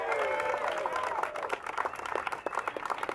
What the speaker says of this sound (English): Another round of applause for Supervisor Jane Kim.